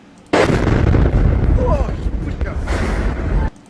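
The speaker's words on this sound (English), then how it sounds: "That explosion is going down the shaft and then penetrating into the shelter" A powerful blast driven down an elevator shaft into a deep shelter, heard as a sudden loud boom that swells into a sustained, rumbling roar for about three seconds before cutting off abruptly.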